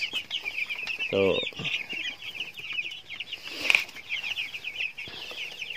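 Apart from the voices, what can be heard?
broiler chickens clucking outside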